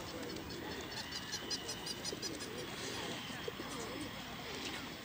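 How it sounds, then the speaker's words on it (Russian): A large flock of pigeons in a park in Almaty coos and flutters in a soft, continuous background murmur, with faint chirps and quiet voices of people nearby. "Вот тут голубей-то ужас."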